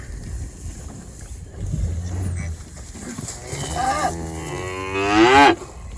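Cattle and calves moo repeatedly in a pasture, a deep drawn-out bellow near the end standing out loud and close over rustling wind and movement as a rider moves through the herd.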